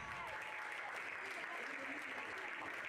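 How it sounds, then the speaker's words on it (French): At a pony hunter team prize-giving, the audience applauds the riders, a steady, fairly faint wash of clapping lasting only a few seconds. "Vous pouvez les applaudir bien fort"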